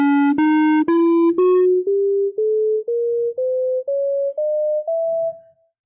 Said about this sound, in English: So they derived this new scale called the Bohlen-Pierce scale